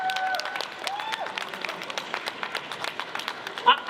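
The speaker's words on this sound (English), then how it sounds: "Give them a big round of applause" A convention audience applauds the Titan Comics editorial team, a busy scatter of claps and cheers from a crowd with voices mixed in, fading slightly toward the end.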